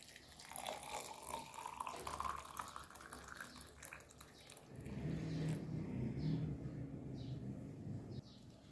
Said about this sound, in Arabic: هننزل عليها بكوبايه ميه دافيه.